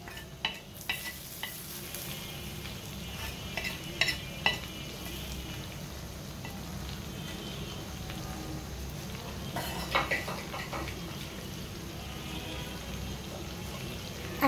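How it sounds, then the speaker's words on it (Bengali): Mustard oil tempering poured over chicken for kala bhuna, then steady stirring and frying in a pan, with a continuous sizzle and a few sharp clinks of a spoon against the pot, close and moderately loud. "এখন আমার এই এই ফোড়নটা আমি মাংসতে ঢেলে দেব।"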